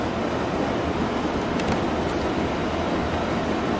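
The Rail Runner train in Microsoft Flight Simulator passes as a loud, constant rumbling roar that holds steady throughout with no break or voices.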